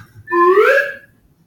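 A slide whistle played in a physics lecture: a single short blown note about a second long that rises steadily in pitch as the tube is shortened, clear and fairly loud, then stops with no voices over it.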